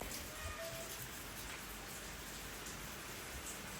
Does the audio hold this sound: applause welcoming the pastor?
no